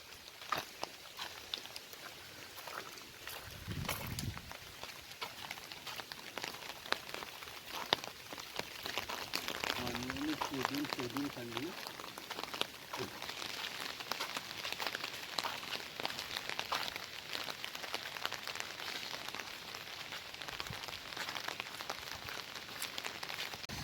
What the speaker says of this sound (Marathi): असं पाऊस पुढे पडतो